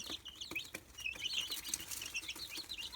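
Young Australorp and Barred Rock chicks peep and chirp continuously at close range, with small rustles and light flapping underneath.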